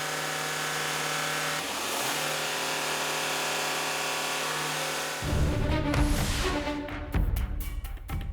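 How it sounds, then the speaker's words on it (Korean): An old diesel car sits at an emissions testing station with a smoke collector attached. The engine idles steadily, then roars into a loud, hard rev as the accelerator is floored, with rough surging near the end. "매연 포집기를 연결한 다음 가속 페달을 힘껏 밟아보는데요"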